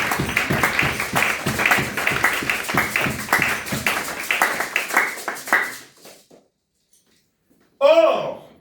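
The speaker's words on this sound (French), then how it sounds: "Nous applaudissons très très très fort pour notre Seigneur." A church congregation claps loudly and rhythmically in fast, even beats for about six seconds, then the clapping fades into silence before a voice starts speaking.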